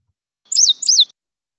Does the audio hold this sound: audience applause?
no